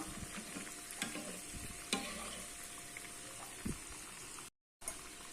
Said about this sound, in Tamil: இப்போ கரண்டி வச்சு நம்ம அப்படியே கலந்து கலந்து கொடுத்தோம்னா நல்லா ஈவனாக வெந்துடும்